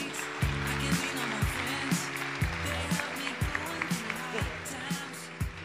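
Studio audience on a French radio show applauds a woman, a brief burst of clapping alongside chatter and bouncy background music with a regular thumping beat.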